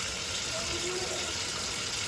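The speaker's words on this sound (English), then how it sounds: "I'm washing the pepper out" Tap water runs steadily into a sink while a bell pepper is washed, a continuous moderate gushing rush with no clear breaks.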